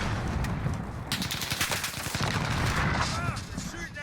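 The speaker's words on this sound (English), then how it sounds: "They're shooting at me." Automatic gunfire in Call of Duty Warzone, played with an AUG loadout, crackles in dense overlapping bursts through most of the stretch, loud and close, with a few brief whistling tones near the end.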